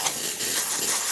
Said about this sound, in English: So as you can see, nice steady steam coming out of the machine.